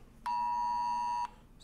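A phone sounding an Amber Alert emergency tone: one loud, steady, piercing electronic tone lasting about a second, starting and stopping abruptly over a quiet room.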